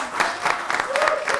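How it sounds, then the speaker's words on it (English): Brief burst of audience applause at a live podcast recording, steady clapping from a crowd filling the moment with a faint voice or tone threaded underneath. "Big applause."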